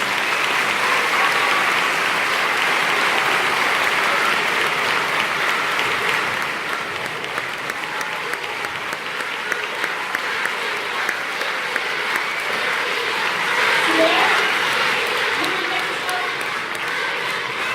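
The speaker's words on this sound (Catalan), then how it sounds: "Un fort aplaudiment per ells, que el mèrit i bona part és seu." Sustained audience applause after a school choir's Cantània concert encore, a dense, steady wash of many hands clapping, loud and even throughout with faint voices underneath.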